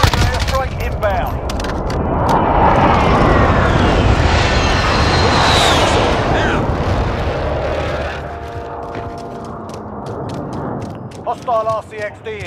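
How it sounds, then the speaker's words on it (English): An airstrike in Call of Duty roars overhead, a loud swelling jet flyover that peaks mid-clip and fades, mixed with machine-gun bursts and gunfire, and radio voices talking over it near the end. "Airstrike inbound."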